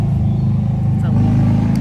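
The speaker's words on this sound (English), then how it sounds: "So, loud motorcycle." A loud motorcycle passes a garden, its engine roaring steadily close by, a deep rumbling motor with a rough, growling drone that holds throughout the short stretch.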